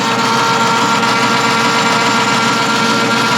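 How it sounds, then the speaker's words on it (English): A metal lathe's lead screw turning under power in a home workshop, making a steady, loud mechanical whir with a constant motor hum and faint tonal whine, unbroken throughout and with no voices. "So you see the lead screw spinning."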